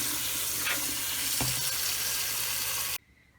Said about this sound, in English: Now I'm just gonna rinse them really well with some cold water.